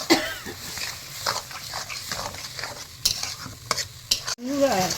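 Ginger paste and spice masala stirred in a hot pan for jackfruit curry, with scraping strokes over a steady sizzle, close and fairly loud throughout.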